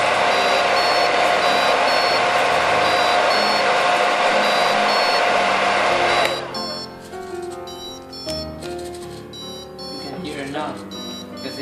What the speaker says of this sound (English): I'm not sure if you can hear it, but the buzzer is also on.